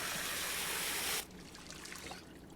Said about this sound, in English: Let's refill our water.